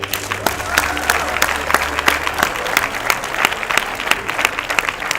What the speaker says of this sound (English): Please give a big round of applause to Vinod Goluvia.